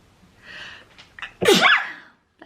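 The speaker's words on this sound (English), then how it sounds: "I'm gonna sneeze." A single sharp sneeze preceded by a quick intake of breath, close and clear.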